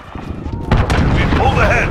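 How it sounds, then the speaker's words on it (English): Cruise missile strike in the online multiplayer of Call of Duty Modern Warfare: a loud blast hits at about 0.7 seconds out of quieter game noise and holds a rumbling, crackling roar to the end, with faint tonal effects over it. "Allied cruise missile away."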